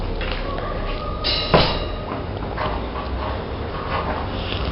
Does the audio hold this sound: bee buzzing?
no